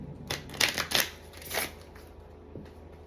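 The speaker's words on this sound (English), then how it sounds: "We're gonna shuffle them." A self-awareness card deck is shuffled by hand, giving a few quick riffling flutters and soft slaps, close and moderately loud against a quiet room.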